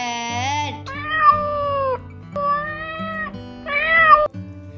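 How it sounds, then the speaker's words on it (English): A cat meows four times in a row, each call drawn out and tonal, close and fairly loud, with a short gap between calls and a low musical backing underneath. "C for cat"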